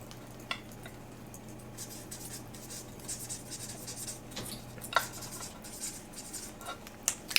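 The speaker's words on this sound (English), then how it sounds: "So I'm going to write" Hand writing of a short question with a pen or pencil, a soft continuous scratching of strokes with a few small taps, close and quiet with no talk.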